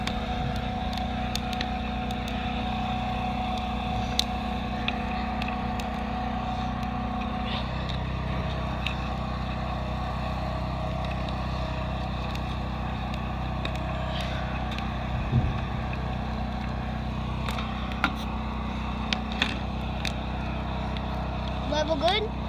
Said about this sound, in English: We got a generator out here on the construction site.